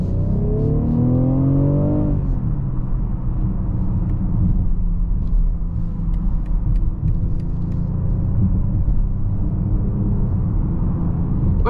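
Engine of a 2023 BMW X5 40i holding high revs in Sport Plus mode while driving, a steady loud low rumble throughout with a rising harmonic sweep in the first two seconds.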